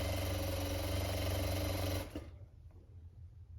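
A sewing machine stitches winter pajama fabric in a steady, loud, close run, then stops abruptly about two seconds in, leaving only quiet room noise.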